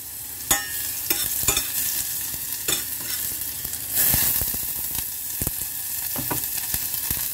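Squid fries in a pan for Filipino adobong pusit, a loud close sizzle with sharp spattering pops and stirring clatters, plus a brief hissing surge midway, and no voices.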